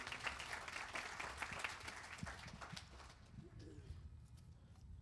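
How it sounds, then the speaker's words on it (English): An audience at a Bhagavat Katha gathering claps for Panditji, a fairly faint, dense patter of many hands that thins and fades toward the end, with a murmur of voices beneath. "Please give Panditji a round of applause."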